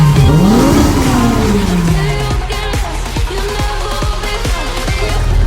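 A naturally aspirated Honda Civic Type R EK9 with a K20 VTEC engine drives past with rising and falling engine pitch, a steady loud road roar and repeated sharp thumps, with no talking.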